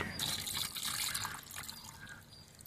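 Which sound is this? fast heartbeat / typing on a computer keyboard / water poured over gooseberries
water poured over gooseberries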